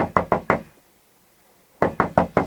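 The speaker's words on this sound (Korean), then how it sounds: "누가 노크 소리가 나. 노크 소리가 나." Four quick raps sound on a spaceship hatch in the film Gravity, then a pause, then four more knocks in the same brisk, loud rhythm.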